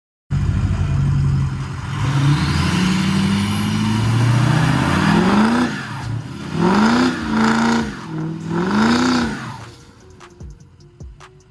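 A work truck's engine roars close by, holding a steady throaty rumble before a series of quick rising and falling revs, then settles back toward idle.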